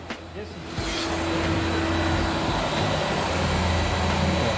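A vacuum cleaner running inside a Hyundai i40 car, starting after a brief pause and rising into a steady, loud whine that holds to the end, with faint voices nearby.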